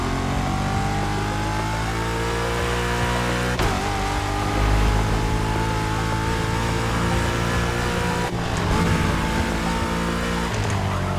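A Porsche 911 in The Crew Motorfest drives continuously with a loud, steady engine drone, revving up through the gears with brief shift breaks, close and alone without voices.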